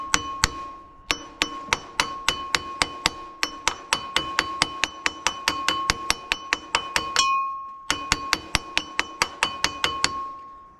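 A hammer taps a pulley hub onto a Detroit engine shaft, a long run of sharp metallic strikes with a bright ringing tone, evenly spaced about three per second, with one short pause partway through.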